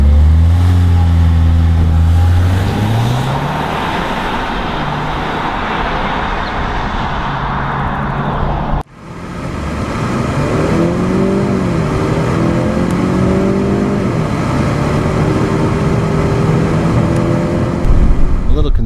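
Nissan Altima accelerating hard during a 0-60 mph test, a loud engine note rising in pitch through gear changes, with a sharp break midway before another climbing run.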